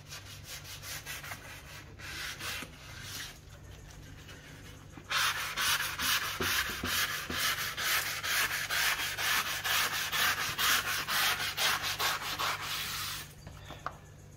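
A door's roller track is smoothed after filing with close, repeated abrasive strokes in a steady back-and-forth rhythm, quieter at first, then louder and continuous for most of the stretch, with no one speaking.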